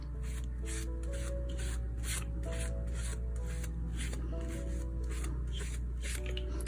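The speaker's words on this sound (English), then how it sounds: "You can even roll the brayer across the paper like that as you're sponging." A soapy sponge scrubs and a gel printing brayer rolls across paper in a steady run of soft, rhythmic rubbing strokes, faint and close, over a low background hum.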